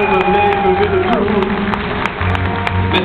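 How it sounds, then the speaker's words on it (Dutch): An audience at a dance show claps in a thick, continuous patter that fills the short, muffled recording, with music and a voice mixed underneath. "Graag geef hem een hartelijk applaus."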